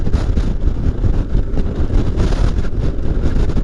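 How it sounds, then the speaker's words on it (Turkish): Strong mountain wind buffets the microphone with loud, continuous low rumbling and gusty roaring, no voices. "inanılmaz bir rüzgar var"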